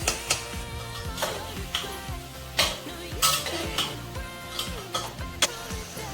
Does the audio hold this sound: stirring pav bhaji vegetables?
yes